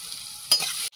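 Potatoes dropped into hot oil with five-spice tempering give a brief, sharp burst of sizzling that hisses steadily for a moment, then cuts off.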